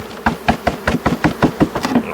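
A swarm of bees is shaken from a box down into a nucleus hive, giving about ten sharp knocks at a steady pace, each followed by a buzzing rush of bees; close and fairly loud, with no talking.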